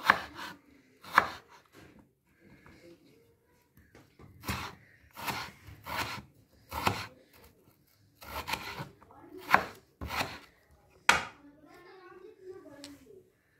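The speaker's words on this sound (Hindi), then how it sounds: "इसको भी हम लंबे साइज में काटेंगे इसके ऐसे ब्रिक ब्रिक सेम प्याज आलू को भी काट लेंगे" Onion and potato being cut into long strips with a knife on a board, a run of distinct close chopping knocks in uneven bursts with quiet pauses between them.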